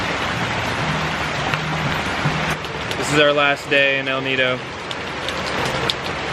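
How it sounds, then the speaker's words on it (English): Rain falls during the rainy season in El Nido, Philippines, while people shelter under a big table; a steady broadband hiss runs throughout beneath a voice talking close by. "now we're hiding under a big table from the rain"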